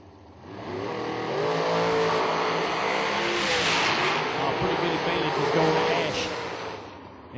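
Dragsters launch down the strip at a drag racing event, their engines roaring up loud and near, then sustaining a harsh wide-band blast for several seconds while an announcer talks over it.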